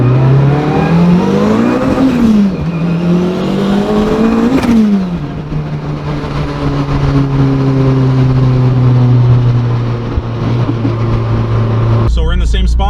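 A Honda Civic with a turbocharged K24 engine and Quaife sequential AWD gearbox revving hard through pulls, the pitch climbing, dropping at quick shifts, then holding a steady drone before a sharp change near the end.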